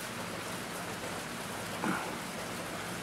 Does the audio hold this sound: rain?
yes